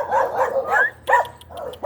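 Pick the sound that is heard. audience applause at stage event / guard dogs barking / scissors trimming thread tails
guard dogs barking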